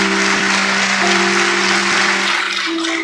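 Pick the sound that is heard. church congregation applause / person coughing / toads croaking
church congregation applause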